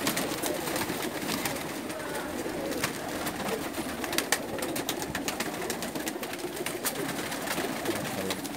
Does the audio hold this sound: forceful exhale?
no